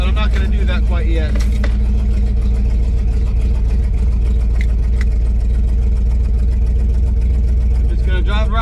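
A 1968 Dodge Charger R/T with a Holley carburetor idles loudly and steadily, its deep, even engine rumble running throughout at close range.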